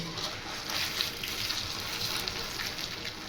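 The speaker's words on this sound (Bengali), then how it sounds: "কড়াইতে সাদা তেল দিয়ে গরম করে নিয়েছি এবার আমি গ্যাসটা একটু কমিয়ে দেবো দিয়ে প্যারাগুলোকে লাল লাল করে ভেজে নেব" Paneer kofta patties fry in white oil in a kadai over lowered gas, giving a soft, steady sizzle with fine crackling that holds evenly throughout, fairly quiet and with no talking.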